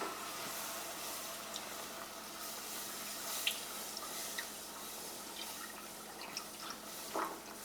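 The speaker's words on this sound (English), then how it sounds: "And now I can go ahead and add slowly my milk." Whole milk poured slowly into a pan for a bechamel sauce for mac and cheese, a soft steady hiss of liquid with faint drips, quiet and close.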